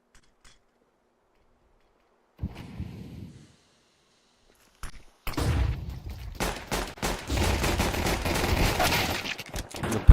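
Gunfire in a competitive shooter video game match: a short burst of shots, a pause, then a sharp report followed by dense, sustained firing that runs loud and continuous to the end.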